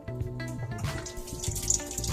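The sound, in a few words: dishwasher tub filling with water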